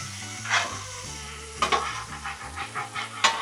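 Beef chuck steak sizzling on a griddle, a steady close frying hiss with scrapes and clinks of a metal utensil stirring and pressing, a low background hum beneath.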